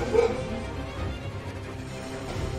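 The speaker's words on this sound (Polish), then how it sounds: "No i pies zaczyna hałasować." A pet dog yips and whimpers repeatedly in the background of a room, blending with low video game music from a Sekiro session, moderately loud and continuous.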